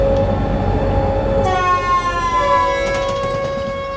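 A WLB 187 locomotive hauls a heavy freight train past in Train Simulator 2020, a loud close rumble of wheels on track joined midway by a sustained high horn-like whine that rings on to the end.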